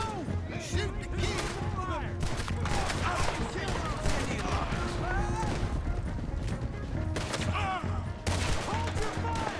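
Gunfire in Red Dead Redemption 2 during a chase shootout, a rapid, dense fusillade of shots crackling throughout, layered with shouting voices, galloping and chaotic battle noise.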